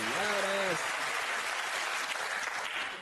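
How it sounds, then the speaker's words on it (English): Loud applause from a big arena-sized crowd, dense and sustained for about three seconds, with a short voice heard briefly at the start. "Sound like a Madison Square Garden kind of applause."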